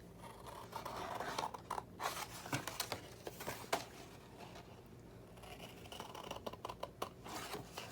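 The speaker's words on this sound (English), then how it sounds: "Now on the little creases that's at the bottom, we're going to cut up to that score line." Scissors cutting a paper treat box up to the score line, a run of quick crisp snips and papery scrapes at close range, uneven in rhythm and fairly quiet, with no talking.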